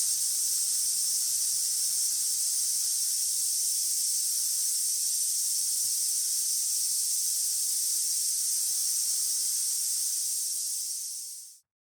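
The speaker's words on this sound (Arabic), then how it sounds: "بتعطي إنذار وبتطلق البخار بشكل تلقائي" A Ninja Foodi electric pressure cooker automatically vents steam in a steady, loud, continuous hiss that holds nearly unchanged for about eleven seconds, then quickly dies away to silence.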